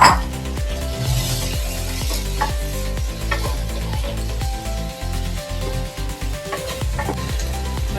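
Chopped vegetables frying in a pan with sautéed tomato and onion for a Chennai-style vegetable biryani: a loud, steady sizzle broken by rhythmic scraping and stirring strokes throughout.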